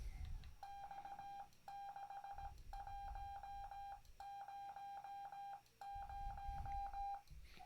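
Xiegu X6100 radio sending a stored CW message, clean Morse code tones keyed in crisp dits and dahs in steady groups, fairly faint with low rumble underneath and no speech.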